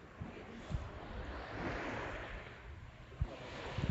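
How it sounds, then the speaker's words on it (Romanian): Sea waves washing onto the beach at Potos, Greece, a steady broad rush of surf with soft splashes and some wind buffeting the microphone, no talk. "Am venit din nou la plajă aici în Potos."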